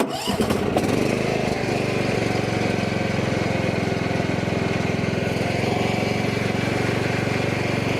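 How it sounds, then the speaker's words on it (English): A Cub Cadet lawn tractor's engine cranks briefly and catches, then settles into a loud, steady, close idle that drones evenly to the end. "To start the mower, obviously, you push the brake in, turn the key to the right"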